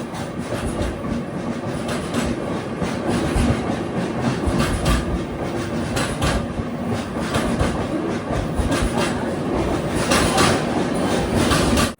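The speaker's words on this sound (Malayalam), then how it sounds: "ട്രെയിൻ ഇപ്പോൾ സേലം ജംഗ്ഷനിലേക്ക് ഇതാ എത്തുകയാണ്." Tata Nagar Express pulling into Salem Junction, a steady loud rumble of rolling rail cars with rhythmic clickety-clack of wheels over joints and a faint squeal, continuous throughout with no voices.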